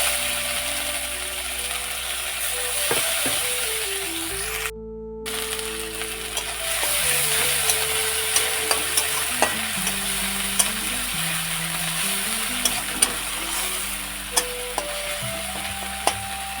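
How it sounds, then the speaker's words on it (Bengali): Ground spices frying in oil in a pan for a Bengali pabda fish curry, a steady close sizzle broken by the scrape and clink of a spatula stirring, with no talking. "হালকা করে মশলাটা ভেজে নেওয়ার পর"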